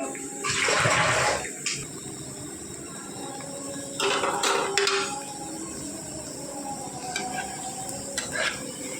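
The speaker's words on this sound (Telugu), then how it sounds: "ఇదిగోండి ఫ్రై అవుతున్నాయి" Spinach pakoda fritters fry in hot oil, giving a steady, close sizzle with louder bubbling surges and crackles as they cook.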